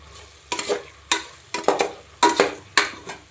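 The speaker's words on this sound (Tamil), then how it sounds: "ஸ்மெல்லெல்லாம் வந்ததுக்கப்புறம் நல்லா சிம்மிலே வச்சு நல்லா கிண்டி விட்டுட்டே இருங்க" Goat meat frying in oil with ginger and garlic, stirred in a pan: five or six sharp bursts of sizzling and scraping at an irregular rhythm, close and fairly loud, with no talk.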